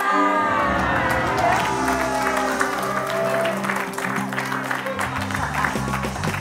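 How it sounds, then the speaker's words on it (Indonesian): A studio audience at a comedy talk show bursts into applause and cheering, a loud sustained crowd roar with music playing underneath and voices shouting over it. "Tepuk tangan buat Natasha"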